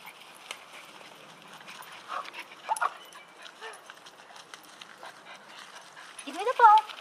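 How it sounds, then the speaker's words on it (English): A dog whimpers and pants in short bursts during a game of fetch, with a louder whine near the end, while a person talks over it at moderate distance. "Good dog. Ready? Ready? Ready? Fetch."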